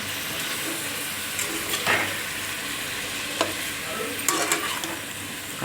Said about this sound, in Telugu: ఇప్పుడు బాగా కలిపి